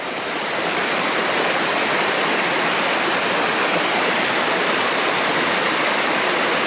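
Steady rushing creek water, a continuous broad splashing roar with no pauses, close and fairly loud.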